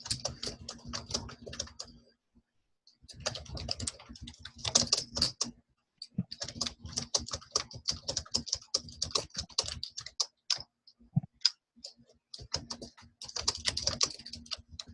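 Rapid clicking of computer keyboard keys during a Zoom call, bursts of typing separated by brief pauses, close and moderately loud with no talking.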